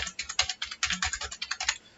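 An Aadhaar number is typed on a computer keyboard, a quick close run of about a dozen crisp key clicks in an uneven rhythm, with no talking.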